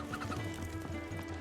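A chicken in the Final Fantasy XVI video game clucks in a steady series of short, soft calls over a faint low game-world hum.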